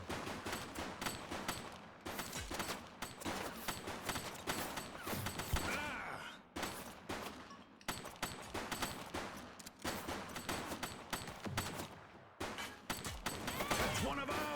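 Video game gunfire in a police-themed shootout, rapid automatic bursts and volleys repeating throughout with short gaps, fairly loud and dense, with a voice speaking intermittently over the shooting.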